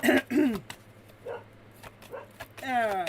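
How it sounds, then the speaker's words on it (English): A pet dog gives a couple of short, close barks and yips with brief pauses between them, mixed in with a person's speaking voice indoors. "if you ever hear my dog barking, she's a confirmation dog"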